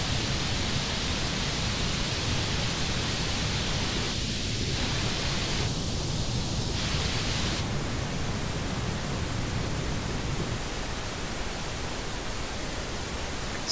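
Stereo pink noise played as an ear-training game test signal, a steady, full, even hiss lasting throughout with slight shifts in tone midway, alone without voices.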